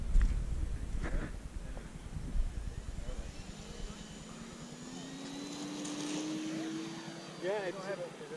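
An FMS A6M Zero radio-controlled model plane flies overhead, its electric motor whine rising in pitch as it passes at moderate distance, with people talking nearby and wind noise early on.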